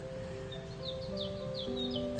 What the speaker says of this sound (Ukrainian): тут просто треба слухати, тому що неймовірний спів пташок